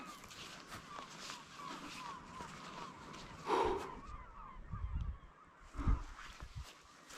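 Seagulls on a green island off the Norwegian coast give scattered honking, squawking calls, a few louder bursts standing out over a soft outdoor background, with faint human voices nearby.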